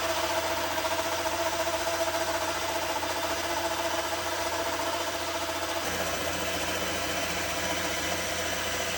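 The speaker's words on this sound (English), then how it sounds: "the Yates Y36 from the 1950s is effortlessly slicing through these veneers" A 1950s Yates Y36 band saw resawing walnut veneers hums loudly and steadily throughout, a constant mechanical drone whose pitch shifts slightly partway through the cut, with no talking.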